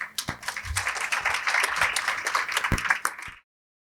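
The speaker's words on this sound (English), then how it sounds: "Please join me in a vigorous round of applause for Jeff Jordan and the 3 other award recipients that we have honored today" An audience at a board meeting gives a vigorous round of applause for pro bono service award recipients. The dense, steady clapping carries for about three seconds and then stops abruptly.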